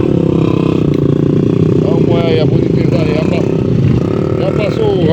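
Motocross motorcycles roar past on a dirt trail during a traditional ride at Barra de São Miguel, their engines droning and revving steadily throughout, loud and close, beneath continuous excited talk.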